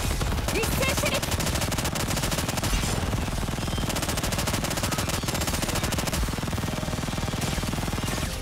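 Rapid sustained volley of automatic gunfire in the Goddess of Victory: Nikke game, dense loud machine-gun bursts rattling without pause for the whole stretch.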